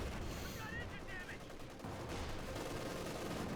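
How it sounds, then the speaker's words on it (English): An anti-tank gun fires on a Panther tank in Company of Heroes 2, sharp shot impacts and rattling gunfire popping amid battlefield noise, moderately faint, with a voice talking through it. "Panther taking a few hits here from the anti-tank gun."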